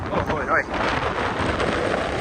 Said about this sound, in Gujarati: ગજબ પવન જો